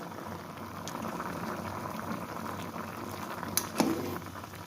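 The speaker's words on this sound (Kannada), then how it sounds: "ಇವಾಗ ನೀರು ಕುದೀತೈತಿ, ನೀರಲ್ಲಿ ಹಾಕ್ಕೊಳ್ಳೋಣ" Pumpkin pieces simmer in a pot of unsalted water, a continuous soft bubbling and gurgling boil, with one small sharp click near the end.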